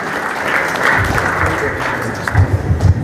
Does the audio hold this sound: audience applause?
yes